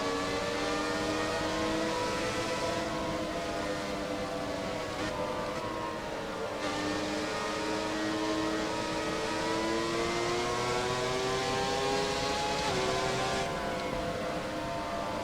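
A Ferrari 412 T2 V12 Formula 1 car in the F1 2017 racing game screams steadily and close, its high engine note climbing and dipping through gear changes with no talk over it.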